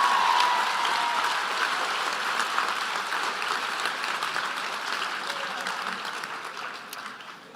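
Sustained applause from a graduation audience celebrating physiotherapy graduates, a dense even wash of clapping that holds steady and slowly fades toward the end.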